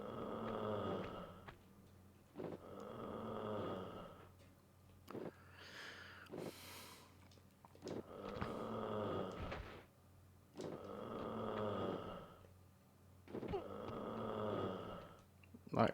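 Rhythmic snoring in the Tomb Raider video game repeats in slow, regular cycles of rasping inhalation, moderately loud, with short pauses and a brief breathy noise in between.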